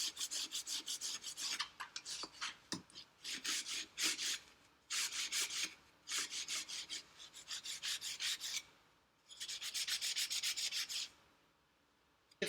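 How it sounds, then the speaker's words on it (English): A file works the edges of a metal plate in rhythmic rasping strokes, grouped into several runs with short pauses between them. The sound is close but fairly quiet, with no voices. "You've filed your plate"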